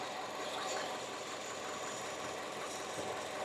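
A car engine idles before it has warmed up, giving a steady, even running hum with a faint rapid knock that holds throughout, alone with no talking.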